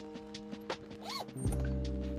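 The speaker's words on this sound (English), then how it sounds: "undo the side zipper," A side zipper on a pet car seat protector is undone with brief scratchy zipping bursts, close and faint, over a steady hum that grows louder toward the end.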